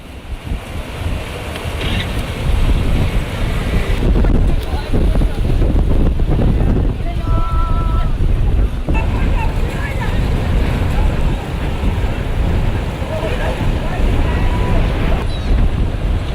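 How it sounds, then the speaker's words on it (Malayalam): Waves crash and wind roars at an estuary where a backwater lagoon meets the sea. The sound is loud and continuous, with heavy wind buffeting and surf rumbling throughout. "അഴിമുഖമാണ്, കടലിലേക്ക് കായൽ എത്തിച്ചേരുന്ന സ്ഥലമാണ്."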